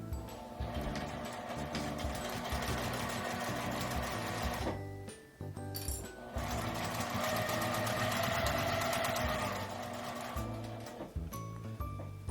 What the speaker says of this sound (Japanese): 布端を合わせて真ん中ぐらいまで縫います